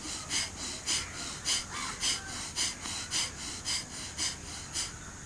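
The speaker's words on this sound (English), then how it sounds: "Now here you can hear the both sounds, breathe in and breathe out." Breathing in and out during yoga practice, a steady series of about ten soft, airy breaths spaced roughly half a second apart, close and fairly quiet with no talking.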